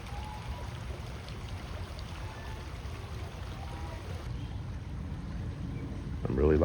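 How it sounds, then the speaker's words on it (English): A man-made stream flows in a quiet state recreation area, giving a steady, soft, even wash of water with light wind and outdoor rumble throughout and a brief louder knock at the end. "it's quiet enough that you can hear the water, even though it's a man-made stream"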